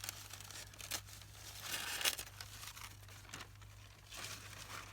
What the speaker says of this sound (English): let's go ahead and cut out our little trailer here